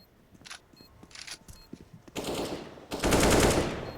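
Counter-Strike gunfire on the Vertigo map in a professional esports match: sparse single shots at first, then dense rapid automatic bursts that grow louder and fill the end.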